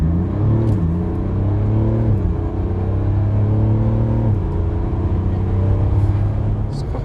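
Mercedes CLS400d with a six-cylinder diesel accelerating hard from 0 to 100 km/h, a loud steady engine drone climbing in pitch through several gear changes, heard from inside the car with no talking.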